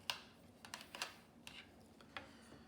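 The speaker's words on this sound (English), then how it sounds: "We're just going to simply type this into our graphing calculator so we don't make errors." Keys pressed on a graphing calculator, a quick series of light plastic taps and clicks, about eight presses in irregular rhythm, close and fairly quiet.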